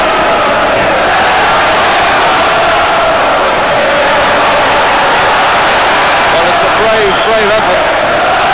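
A boxing crowd at a WBA flyweight title fight cheers and roars continuously, a dense loud wash of voices with shouts rising toward the end, mixed with commentary.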